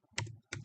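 Two quick keystroke clusters on a computer keyboard while typing a terminal command, close and crisp.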